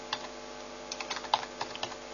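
A short run of keystrokes on a computer keyboard types out a name, with about a dozen light, irregular taps over a quiet room hum.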